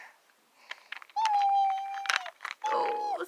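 Cats in a cat cafe give two drawn-out, clear meows up close, separated by small rustles and short noises, while people talk softly nearby.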